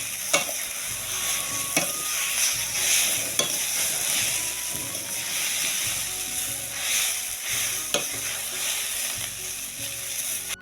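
Maggi instant noodles cooking in a pan, with a steady broad sizzle and repeated scraping stir strokes and clinks from a utensil throughout, close and fairly loud, with no talking.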